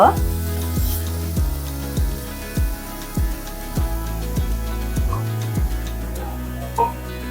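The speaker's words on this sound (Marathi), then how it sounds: "फोडणीमध्ये वाटण घातल्यानंतर ते छान असं त्याला तेल सुटतं आणि छान शिजत" Ground masala paste sizzles in a hot oil tempering for a mango and val bean curry, a steady crackling fry punctuated by regular stirring knocks of a spoon against the pan.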